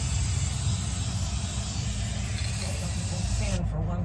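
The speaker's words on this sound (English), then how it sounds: "Spray a little bit on the foam." An aerosol can sprays onto foam in a steady, loud, continuous hiss lasting several seconds, close by, cutting off near the end.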